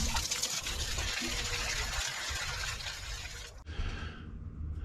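Water is poured out of a vintage bike part in a steady, close gushing stream for several seconds, then cuts off abruptly, leaving a quieter dribble.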